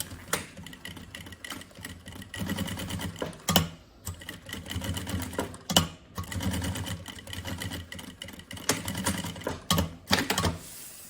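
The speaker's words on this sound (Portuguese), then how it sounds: "Fazem a costura com um calcador de máquina." Sewing machine stitching synthetic backpack fabric together with its lining using a presser foot, a steady fast mechanical chatter in bursts with brief pauses, close and without talk.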